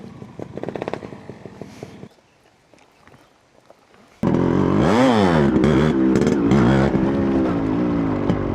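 Yamaha RX100 two-stroke motorcycle engine, a softer idle and rattle giving way to loud, sustained throttle revving with rising and falling pitch sweeps, close to the listener.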